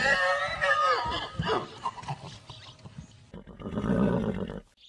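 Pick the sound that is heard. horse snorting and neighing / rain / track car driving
horse snorting and neighing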